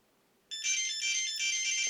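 An ArduCopter flight controller on a 5-inch Rekon drone build sounds its tones through the motors: after a short quiet, a bright, steady electronic beeping melody starts abruptly and holds at moderate volume.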